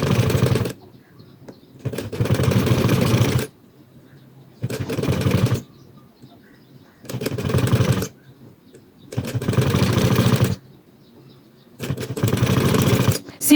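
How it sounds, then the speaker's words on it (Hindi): Sewing machine stitching fabric in short repeated bursts, each a few seconds of steady mechanical whirring separated by brief quiet pauses, close and moderately loud. "अगली आपने स्टार्टर को दबाना है और अपनी बाकी सिलाई जो है उसको कंप्लीट करना है।"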